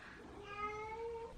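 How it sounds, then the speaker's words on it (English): A cat meows once in a long, rising and falling call, close and fairly clear against a quiet indoor background. "Happy cat."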